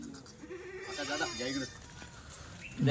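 Kathiyawadi dairy goats of good milking quality bleat nearby in a couple of wavering, nasal calls that carry over a low background murmur.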